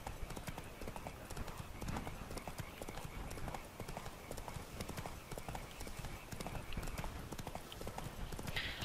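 Horse hooves clip-clop steadily at a riding pace in The Witcher 3: Blood and Wine, a close, regular beat running the whole way with faint game ambience behind and a brief whinny-like sound.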